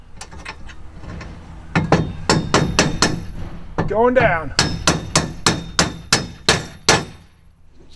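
Repeated hammer blows on metal parts of a truck bed kayak rack, a steady run of sharp ringing whacks up close, with a short spoken phrase partway through.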